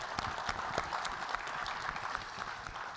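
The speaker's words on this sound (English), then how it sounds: "some applause for our sponsors that have really made this whole thing possible" An audience at a business conference session applauds the sponsors, giving fairly quiet, even clapping with scattered sharper claps over about three seconds.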